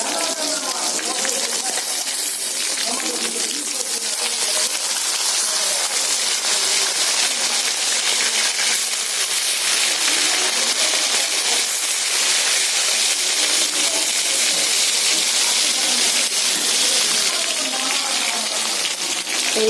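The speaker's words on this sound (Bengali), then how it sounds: "এইভাবে আমি সবগুলো মাছ একে একে ভেজে নেব" Tilapia fish fry in hot oil with a continuous loud hissing sizzle and crackle, heard close and steady under a voice speaking.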